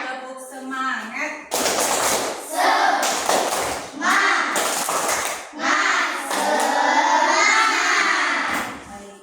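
Classroom of children doing a rhythmic cheer clap, bursts of sharp group clapping in patterned beats mixed with chanting voices, loud and close.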